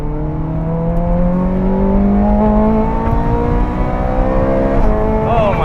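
A Ferrari 430 Scuderia, a lightweight 503 hp sports car, accelerating hard, its loud engine note climbing steadily through the revs with a quick upshift near the end, heard up close from inside the car.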